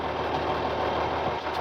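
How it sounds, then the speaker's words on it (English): A tractor engine runs at a steady idle nearby, a continuous mid-low rumble with slight vibration and no talk over it. "when I shut the tractor off,"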